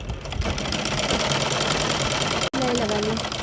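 Sewing machine running a half-inch seam on a kurti, a steady close mechanical whir with a brief cut-out near the end, with a voice faintly underneath.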